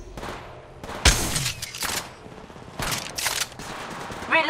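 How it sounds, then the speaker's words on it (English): Gunfire in the video game Apex Legends, sharp close shots and rapid bursts over a busy game mix, with a voice briefly at the end. "Battling the enemy. Down the hostile on Scotty. Shooting"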